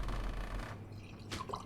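Liquid pours into a drink in a pub inside a 1648 Swedish civil war strategy game: a steady wet splash and trickle that fades out after under a second, followed by a few faint drips.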